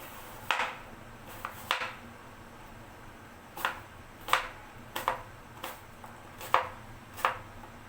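A knife cuts vegetables into small cubes for a Russian salad, a series of sharp, separate chopping taps with uneven gaps between them, close and fairly quiet against a still kitchen.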